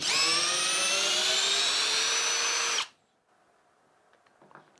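A Parkside Performance PBSPA 12 C3 12V cordless drill whines loudly and steadily as it backs out a screw, its pitch rising slightly, then cuts off abruptly, leaving faint clicks and quiet room noise.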